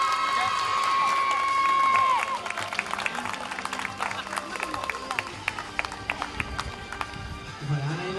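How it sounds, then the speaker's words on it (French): Crowd applause at a pony show jumping prize ceremony, the Hunter Club Poney Elite, a dense spread of clapping with a few louder claps standing out, mixed with general crowd noise and a tone at the start. "Sous vos applaudissements avec Joyeux et Romane Régent."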